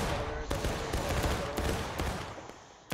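Musket gunfire in the Civil War video game War of Rights, a ragged volley of overlapping shots cracking irregularly over a few seconds, fairly loud amid battlefield noise.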